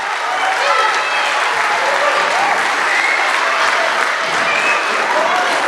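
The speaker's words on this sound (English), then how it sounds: "Let's give an extra round of applause for the cellos and the basses sitting in front of the stage." An audience at a spring string orchestra concert claps for the cellos and basses, a full, close round of applause that holds steady throughout, with some voices and whistles mixed in.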